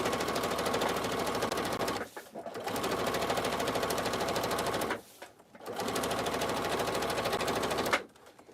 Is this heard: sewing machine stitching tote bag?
yes